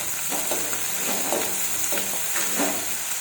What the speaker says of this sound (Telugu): ఒక్కసారి కలపాలి